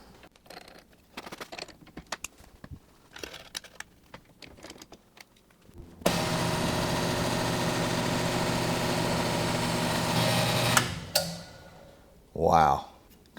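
A Drill Doctor sharpener regrinds a snapped drill bit, its motor giving a steady, loud grinding whir for about five seconds. Clattery handling and speech come before it, and a short burst of grinding follows.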